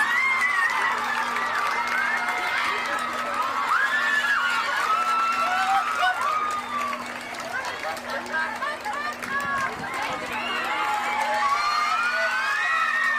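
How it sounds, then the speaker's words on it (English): Children and a crowd cheer and shout at a school annual sports meet, a sustained, lively roar of many young voices with chatter and applause, swelling and dipping slightly while an announcer's voice carries over it. "A loud cheer."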